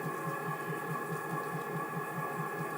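A pizza dough mixer runs at maximum speed, a steady, even motor hum with a fast rhythmic churning pulse throughout, fairly quiet and close, with no talking.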